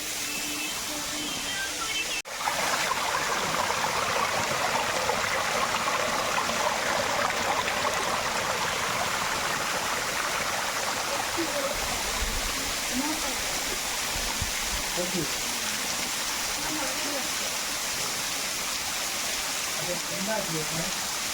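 A waterfall and stream pour in a steady, dense rush of water, loud and close, that continues unbroken. Faint voices come through now and then beneath the roar.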